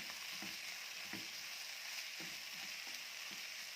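Onions and meat fry in a pot with a steady, close sizzle, broken by a few soft scraping knocks as the mixture is stirred, with no talk.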